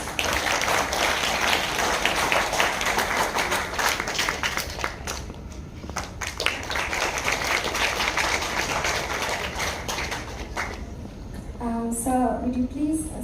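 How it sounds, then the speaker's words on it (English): Dense, continuous clapping from a large university audience, steady and loud for most of the stretch before tapering near the end, with a voice briefly audible at the close. "Please give a huge round of applause."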